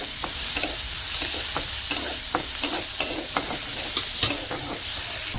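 Onion and garlic fry in a pan over village-style cooking, a steady close sizzle broken by repeated sharp scrapes and clinks of a stirring spoon at an irregular rhythm, with no talking.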